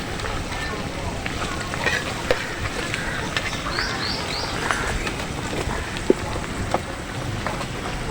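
Onion pakoras (piyaji) deep frying in hot oil, giving a steady dense crackle and fizz throughout, with scattered pops and small clicks close by.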